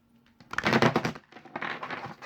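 Cards being shuffled produce close, crackling riffles in an uneven run of bursts over about two seconds, with nothing else audible.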